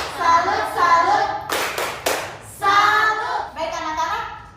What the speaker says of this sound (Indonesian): tepuk tangan untuk Jen